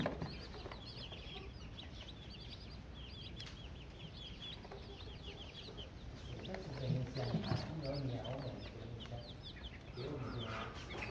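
Chicks and chickens peep and cluck in a VR farm game, with steady chirping throughout and a few louder clucks near the middle, heard alongside faint game background sound.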